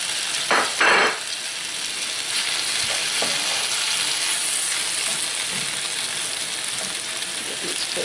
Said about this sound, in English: I'm going to let these saute just a minute